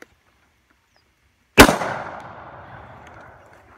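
A single loud shot from an Adler A110 lever-action shotgun fitted with a muzzle brake, a sharp close crack after silence, followed by a long fading outdoor echo.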